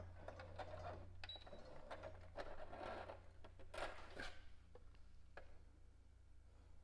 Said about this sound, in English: Just going to go over it one stitch and then back stitch.